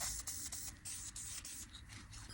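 A spray can lays a super light first coat of paint onto vinyl-like plastic fabric, giving a steady close hiss with brief pulses as the nozzle is pressed and released.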